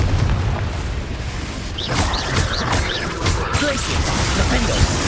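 Confringo fire-blast spell explosions in the Hogwarts Legacy game, a dense run of booming blasts and crashing bursts layered over a continuous roar of combat noise, with a shouting voice mixed in.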